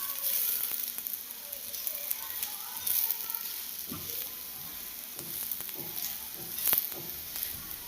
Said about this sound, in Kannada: ಸ್ವಲ್ಪ ಲೋ ಫ್ಲೇಮಲ್ಲೇ ಬೇಯಿಸಿ ಮೀಡಿಯಮ್ ಫ್ಲೇಮಲ್ಲಿ ಎರಡು ಕಡೆನೂ ಈ ಥರ ಬೇಯಿಸ್ಕೊಬೇಕು.